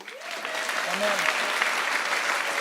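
Applause from a church congregation, steady and sustained throughout, with a brief sung or spoken voice rising through it near the middle.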